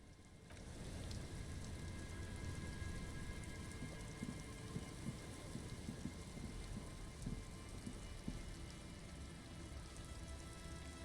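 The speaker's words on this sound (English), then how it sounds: "It's getting late, and it's raining." Steady rain in the video game Disco Elysium falls throughout with a constant wash of patter and occasional distant rumbles, no voices.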